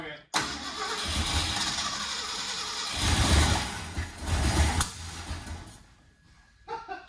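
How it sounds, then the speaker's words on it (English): A 1967 Ford F100 pickup engine cranks, catches and runs rough for several seconds, broken by a loud backfire pop midway before settling, heard up close and loud. "Well, it does fire and run. That was a heck of a back pop though."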